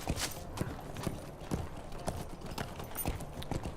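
Hooves of a ridden horse in a video game, a clear steady clip-clop at walking pace, evenly spaced strikes close by with faint background ambience.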